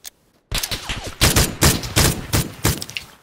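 Rapid gunfire in PUBG, a loud burst of close shots after a brief quiet start, firing in quick clustered volleys with short gaps, no talk.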